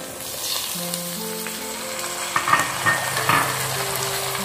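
Bottle gourd, brinjal and tomato pieces being stirred through hot frying oil, giving a steady soft sizzle with a few louder scraping stirs near the end, close and without talk.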